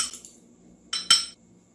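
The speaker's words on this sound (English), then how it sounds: "we're just gonna use a fork to incorporate these liquids together" A fork clinks against a bowl while beating egg and liquids for butter pie dough, a few sharp metallic taps with the loudest two close together, near and clear over a quiet background.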